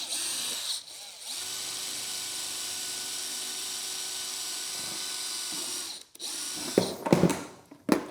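A power drill bores holes through a box for a DIY portable power station, running as one steady sustained whine for several seconds before stopping, followed by brief clattering handling noises.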